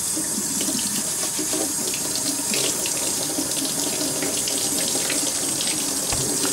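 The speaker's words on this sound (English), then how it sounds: "I'm going to wash them real quick. I just scrub them with the, this is just my potato sponge" Steady, loud rush of a kitchen faucet running into a sink while potatoes are scrubbed with a sponge, a continuous even hiss of water with faint scrubbing and splashing textures under it.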